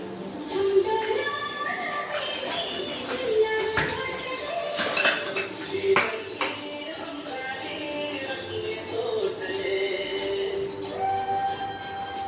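Metal pots, a pressure cooker and utensils clatter and scrape in a kitchen sink as they are scrubbed and washed, with continuous overlapping clinks and knocks and someone talking over the work.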